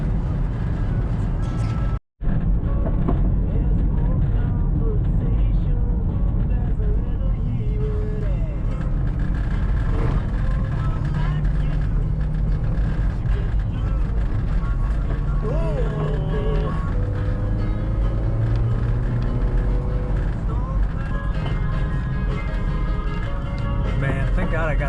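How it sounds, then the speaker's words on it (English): Steady interior road noise from a 13-year-old four-cylinder Nissan Caravan van driving through the New Zealand countryside, a continuous low rumble and engine drone throughout, with a brief dropout near the start and a voice talking over it. "I'm driving a 13-year-old Nissan Caravan"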